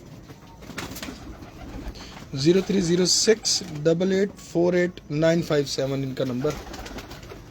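Salara pigeons in a keeper's loft coo in the background while someone talks steadily over them, his voice largely covering the birds.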